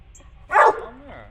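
A young puppy named Bear lets out a single short, sharp bark up close during an indoor training session with treats, followed by a brief faint whine.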